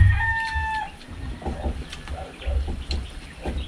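Rooster crowing close by in a rural Occidental Mindoro setting, one drawn-out crow at the start followed by clucking and scattered farmyard bird noises against low rumbling background.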